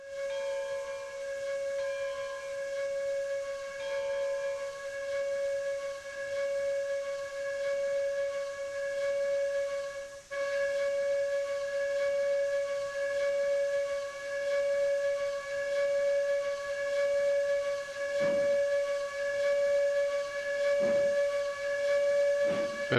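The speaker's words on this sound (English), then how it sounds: "Listen to the whistle." A steam locomotive whistle in the railroad video game Railroads Online sounds as one long, steady, tonal blast held for over twenty seconds, with a faint rhythmic pulsing underneath and a few brief clicks.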